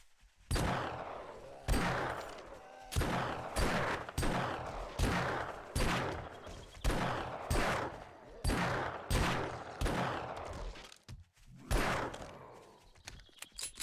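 Weapon fire in the video game 7 Days to Die (Darkness Falls mod), a slow series of about a dozen loud single shots with heavy reverberant tails, evenly spaced, with no talk over them.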